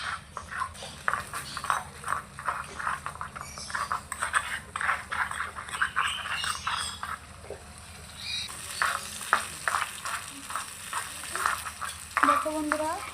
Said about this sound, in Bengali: মরিচের গুঁড়া, এগুলোকে ভালো করে কষিয়ে নেব।